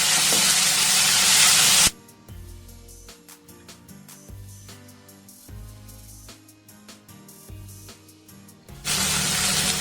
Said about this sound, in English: I'm going to add a teaspoon of ginger garlic paste and fry till the ginger garlic paste smell fades away